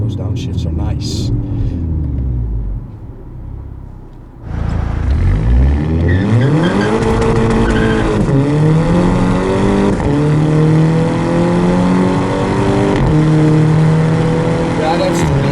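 A 2011 Volkswagen Golf GTI MK6 with a dual-clutch gearbox accelerates hard, its engine note climbing in loud rising sweeps with quick downshift blips in between. The car sounds close and steady after a brief quieter moment, and people talk over it.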